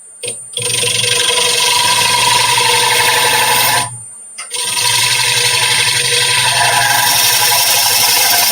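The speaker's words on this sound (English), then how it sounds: "I need to let my lathe spin up." A wood lathe spins up as a steady motor whine with a high tonal hum, cutting out briefly midway and then running up again to a sustained drone, loud and close.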